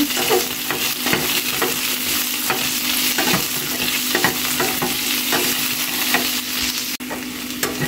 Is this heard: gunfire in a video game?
no